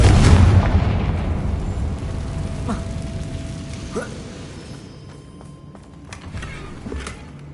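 A Confringo blasting curse bursts with a loud boom in Hogwarts Legacy, its heavy low rumble decaying over several seconds, followed by a few lighter pops and crackles.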